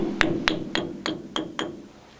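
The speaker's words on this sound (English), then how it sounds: "Now, this is where the hammer comes in," Six sharp hammer strikes ring out on a trailer axle hub at a steady, slightly slowing pace, each with a bright metallic tap that fades quickly, close by.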